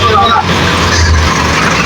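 Morning traffic jam on a sloping bazaar road in Naran, with idling and revving car engines, a loud steady low rumble close by and voices talking over it.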